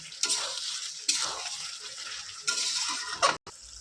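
Chicken pieces being stirred in a pan while cooking butter chicken masala, with the meat releasing water: bursts of scraping, wet sizzling strokes, each lasting about a second, close and fairly loud, ending abruptly.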